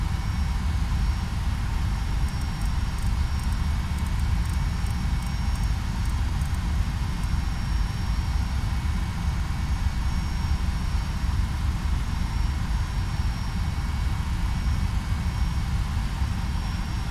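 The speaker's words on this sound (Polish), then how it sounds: "Prawy silnik gdzieś się uruchamia." Simulated Boeing 757 right engine spooling up in X-Plane 11, a steady loud low rumble and broadband roar that holds evenly throughout, with a faint high whine above it.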